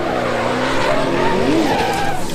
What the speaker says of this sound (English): that's when our tires touch and causes my tire to lock up and spin me around